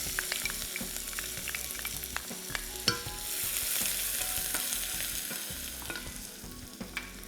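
Shallots sauteing lightly in a pan with cinnamon, star anise and bay leaf for Indonesian-style lamb korma, a steady close sizzle punctuated by sharp spatula scrapes and clinks.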